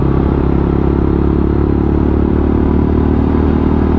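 A Lexmoto Tempest 125cc motorcycle rides along at a steady speed, its engine a loud, close, constant drone with wind rumble throughout.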